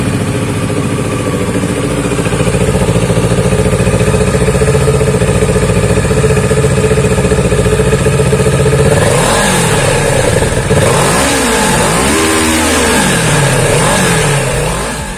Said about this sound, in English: Now let's hear the exhaust note of the bike.